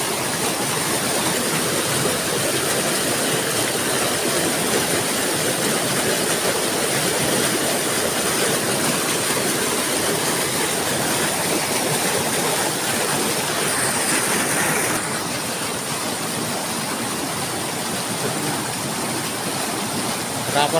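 Strong river current rushing, a loud, steady broadband roar of fast-moving water that continues unbroken throughout and eases slightly in level near the end.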